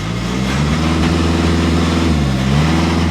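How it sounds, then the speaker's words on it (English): A 2015 Volkswagen Golf TDI diesel engine running at idle, a steady low rumble with a slight rise in pitch midway as the revs lift briefly, close and continuous with no talking. "It sounds like a diesel."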